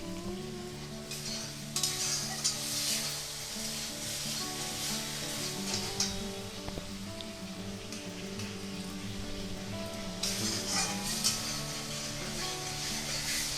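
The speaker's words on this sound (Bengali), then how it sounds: "এইভাবে নাড়াতে থাকবো" Spice masala with water for palak paneer is stirred in a pan, producing continuous rubbing and scraping with a soft sizzle, steady and close, swelling in brief bursts.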